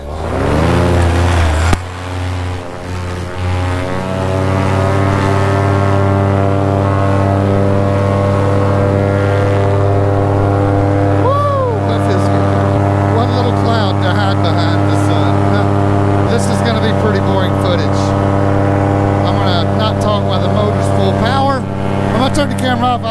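Moster 185 paramotor engine roaring during a high climb, a loud, close, sustained buzzing drone with steady harmonics and slight pitch wavering, continuous throughout with faint wind rush and no pauses.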